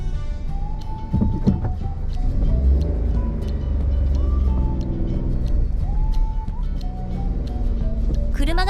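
A small car maneuvering to turn around on a narrow rural road in the mountains of Mima, Tokushima, its engine rumbling steadily close by while a voice talks over it.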